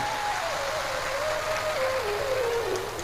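Audience applause welcoming the host family at a Shiv Mahapuran religious discourse in Kushinagar: a dense, steady wash of clapping that lasts the whole few seconds while a single voice carries on above it.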